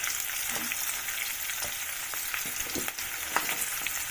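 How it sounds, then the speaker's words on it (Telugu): Green chillies fry in oil for a sesame chutney, giving a continuous quiet crackling sizzle with faint occasional stirring scrapes. The sound is close, and no one talks. "పచ్చిమిరపకాయలు నూనెలో మంచిగా, కొంచెం కారము తగ్గుతుంది కదండి నూనెలో వేస్తే"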